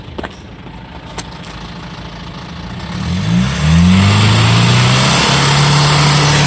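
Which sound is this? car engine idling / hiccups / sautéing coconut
car engine idling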